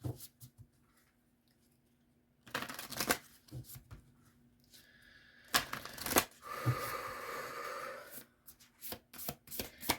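Moonology oracle cards being shuffled in several quick riffling bursts, close and fairly soft, with quiet pauses between the bursts.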